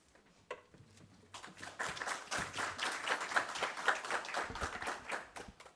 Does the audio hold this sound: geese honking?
no